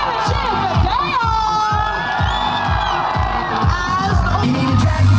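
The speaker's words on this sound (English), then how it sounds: "And give a cheer for Dale." A loud crowd of children and adults aboard the Disney Wish cruise ship cheers and whoops for Dale during Mickey's Mouse-querade, with rhythmic party music thumping underneath throughout.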